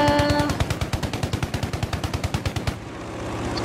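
A rapid, loud burst of machine gun fire from an American plane in the video game Battlefield V, steady rhythmic shots for nearly three seconds before cutting off into engine hum.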